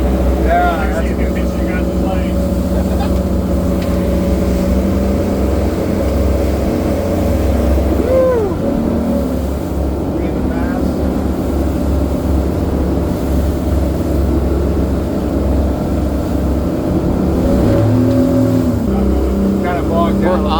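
A harbor pilot boat's engine at full throttle gives off a loud, continuous drone and rumble, with wind and rushing water around it. People talk over the noise now and then.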